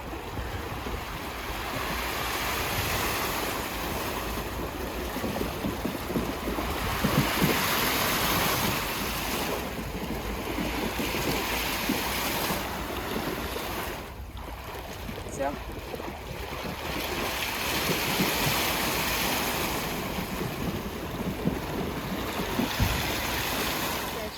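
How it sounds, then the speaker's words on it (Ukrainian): Steady rushing splash of a fountain along a rose alley walk, a broad continuous wash of water noise with gusts of wind on the microphone and people talking over it. "Йдемо мимо фонтана, а мама каже, вода шумить, як наче ми на морі"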